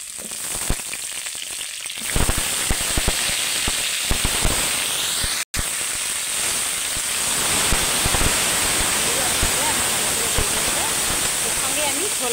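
Pumpkin tipped into frying potatoes in hot oil sets off a loud, continuous crackling sizzle that jumps up after a quieter start and keeps spitting and popping close by, with someone speaking over it.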